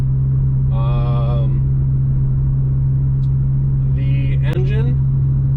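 A steady low exhaust drone from a 2019 Audi RS3 with an aftermarket exhaust hums throughout, with people talking briefly over it.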